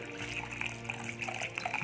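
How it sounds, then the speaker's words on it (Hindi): Water is poured into smooth kadhi batter, a close, steady splashing trickle with no voices. "अब हम इसमें डाल लेंगे पानी"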